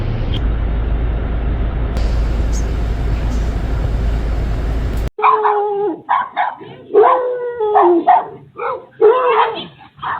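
House dogs bark repeatedly in a garden on alert as wild boars cut through, sharp close yips and barks in an uneven burst following a loud steady rumbling stretch, no talk.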